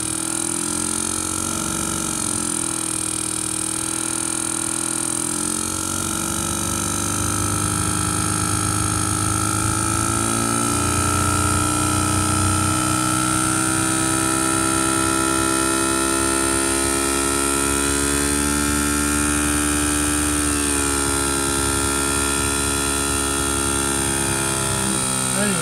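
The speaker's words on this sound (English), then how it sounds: "Nothing happened, the motor is running perfect." A motor drives a half exciter generator under load with a loud, steady electrical hum and whine that shifts in pitch as the load changes, continuous throughout.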